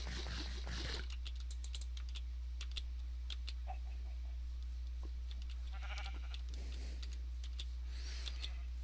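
Minecraft sheep give a couple of short, soft bleats in a grassy biome, heard alongside steady computer-keyboard typing over a constant low electrical hum, with no speech.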